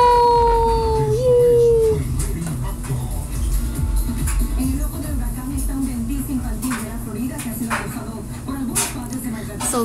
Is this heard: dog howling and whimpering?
yes